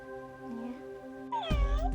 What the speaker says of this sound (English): It's not a real cat. It's a robotic cat.